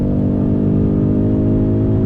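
A 2020 Ford Mustang EcoBoost with the High Performance Package pulls up to speed, its four-cylinder turbo engine giving a loud, steady, rising drone with strong low harmonics, close and alone.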